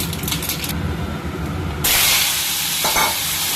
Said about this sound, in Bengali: একটু ফোড়ন দিয়ে দিচ্ছি মৌরি সর্ষে আর একটা শুকনো লঙ্কা